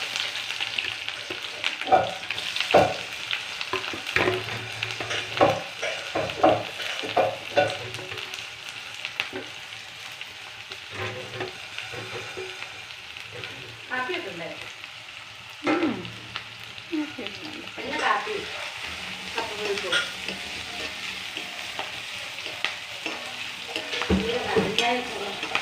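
Onions sizzle steadily in hot oil for a kappa biryani while a spoon scrapes and stirs them around the pan in uneven, close strokes, with no voices.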